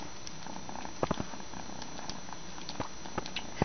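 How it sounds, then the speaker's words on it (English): A kitten purrs loudly and close up, a continuous rumbling drone with a few soft taps and rustles scattered through it. "The loudest purr I've ever heard"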